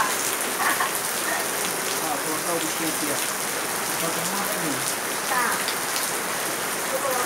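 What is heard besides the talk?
rain falling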